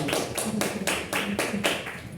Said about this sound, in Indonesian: Kita berikan tepuk tangan yang meriah untuk kelompok.